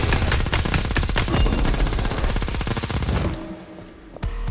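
Rapid automatic gunfire in the mobile action game Aether Gazer, a loud dense stream of shots for over three seconds before dropping away to quieter game sounds, with one last sharp hit near the end.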